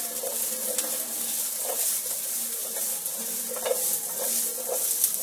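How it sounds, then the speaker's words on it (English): Red and green capsicum stir-fried for chilly chicken, sizzling steadily in a pan while a spatula scrapes and clatters in a loose repeating rhythm, close and fairly loud. "Keep stirring while it's cooking."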